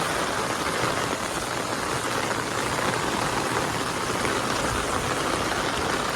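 Heavy rain pours steadily in Keshod, a dense, continuous wash of close-up downpour that holds at an even loudness, with a faint low engine rumble underneath and no voices.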